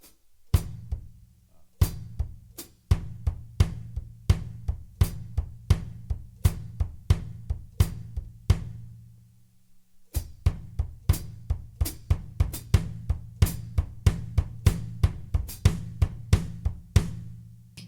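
Bass drum kicked with uneven strokes, switching between heel-up and heel-down technique, giving a steady stream of close, punchy low thumps whose loudness varies from hit to hit, with a short pause midway and no talking.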